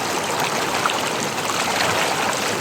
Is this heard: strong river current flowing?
yes